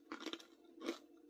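Homemade sourdough crackers with a pizza-like, herby seasoning crunch between the teeth in close, crisp bites, three or four quick crackling chews heard up close with no talking.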